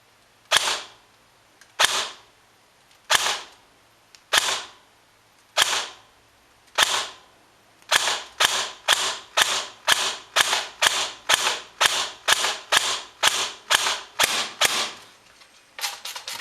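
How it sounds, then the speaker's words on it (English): An Ares TAR-21 bullpup airsoft rifle fires on semi-auto: six widely spaced sharp cracks, then a faster run of about twenty close, loud snapping shots with no talk. "So I'll start with a couple of shots on semi, and then we'll move on to fully automatic."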